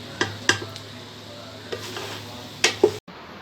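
Beef mince mixture for shami kababs cooking down in a pan as its water dries off, with a faint steady sizzle broken by a few sharp scrapes and clinks of a spoon against the metal.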